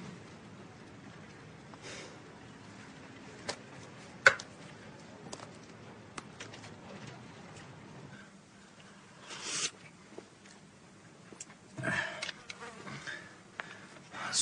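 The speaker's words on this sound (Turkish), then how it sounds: "bu sinek illeti fena" Flies buzzing around in a quiet outdoor setting, faint intermittent buzzes and passes drifting near and away, with occasional louder close bursts and small rustling noises.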